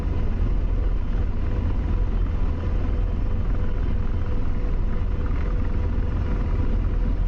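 An AH-64 Apache helicopter lifts off in the DCS flight simulator, a loud, steady low rumble and rotor drone filling the scene without pause, no voices.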